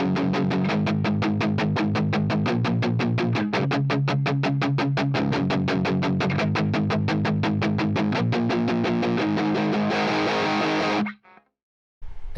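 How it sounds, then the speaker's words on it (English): Distorted electric guitar chugs through a palm-muted chord progression in steady, choppy eighth-note strokes, loud and close with no talk, then stops abruptly with a brief silence near the end. "So then you move on to a palm muted version of that. Sounds like this."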